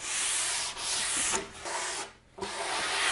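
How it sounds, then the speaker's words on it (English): Sandpaper of 150 grit on a stiff, hard sanding block is rubbed along wood edgebanding in a few firm back-and-forth passes, loud and close, with brief pauses between strokes. "I just have 150 grit sandpaper on a stiff, hard sanding block, and I can give it a few passes on the edge"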